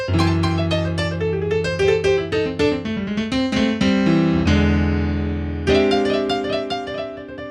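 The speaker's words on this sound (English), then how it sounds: "Now, blues riffs are just groups of notes that sound cool together, like this." A bluesy piano riff of quick rolling notes and held chords, played alone and clearly, with a sustained chord ringing out near the end.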